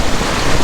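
Steady rush of ocean waves and wind noise aboard a sailboat on a rough passage to St Croix, a continuous dense wash with no distinct breaks and no voices.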